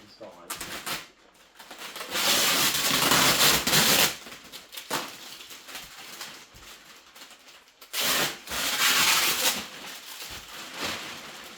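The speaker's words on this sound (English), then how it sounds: "so now we'll remove the plastic and see what's inside." Plastic wrapping pulled and crinkled off a boxed Phrozen Arco 3D printer, in several loud rustling bursts separated by short pauses, close to the microphone with a voice speaking between them.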